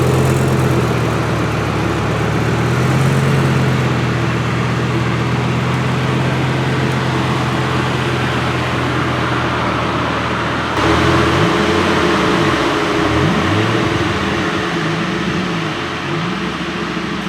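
A steady loud engine drone with road and wind noise from inside a Lamborghini driving through a snowstorm in Summit County, Utah, with the pitch shifting and rising partway through.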